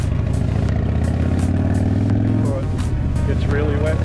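A Harley-Davidson motorcycle rides on wet roads in Tasmania in spring. Its engine drones steadily and close, with a low rumble and a shift in pitch partway through, all under constant wind and road noise.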